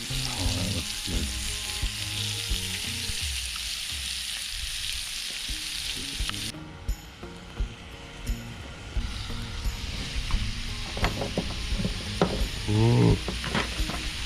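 Bacon and pork chops fry in a pan on a prototype hot box firebox, a steady loud sizzle with scraping and shifting sounds, brief exclamations over it.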